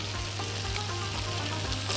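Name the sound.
onion and minced meat sizzling while being sautéed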